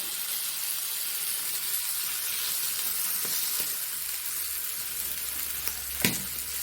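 Chicken pieces frying in melted butter with no added oil, a steady soft sizzle and hiss throughout, with a couple of sharp clicks near the end and no talk.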